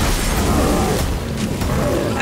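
A fire elemental materializing in The Witcher 3: Wild Hunt, heard as a steady, loud roaring rumble with a dense crackling, blazing texture that holds throughout.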